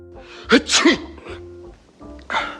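A man sneezes twice in quick succession, sharp and close, followed by a third sneeze after a short pause.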